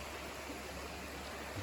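Cabin Creek in Jasper National Park runs as a steady, close, broadband rush of flowing mountain water, unbroken for the whole stretch with no voices.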